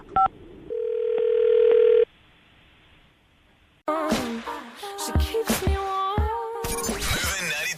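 A telephone call is placed on air: a short beep, a sustained dial tone that cuts off, a pause, then a burst of tones and jingle-like sounds that could be a radio station's audio.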